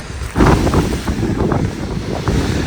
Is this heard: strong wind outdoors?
yes